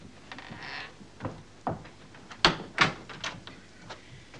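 A sticky door is worked open with a series of knocks, rattles and creaks, two sharper thuds near the middle, fairly close with no talking.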